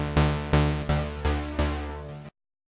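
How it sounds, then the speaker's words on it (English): Five plucked synth notes from Serum played through a free chorus plugin, each striking with a bright attack and fading, in an even rhythm that stops abruptly; fairly quiet and shimmering. "The final effects device that I want to add in is going to be a chorus effect."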